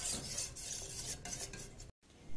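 A spoon scrapes and stirs a thickening mixture in a pot over the heat, a steady close swishing with light metallic clinks, broken by a brief silence near the end.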